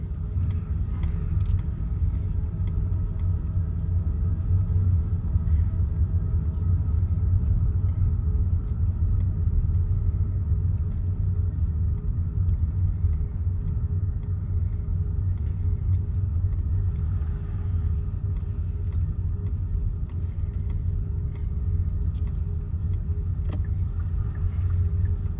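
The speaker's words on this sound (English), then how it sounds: "Can you feel the car picking up speed?" A learner's car on a road in Leeds gathering speed, a continuous low engine and road rumble heard from inside the cabin, steady and fairly loud with no talking.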